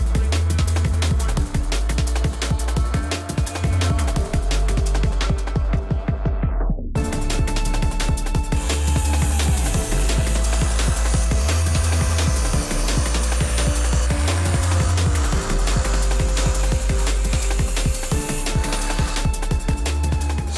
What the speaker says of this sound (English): So again, I'll grind this for you and you can see what I mean.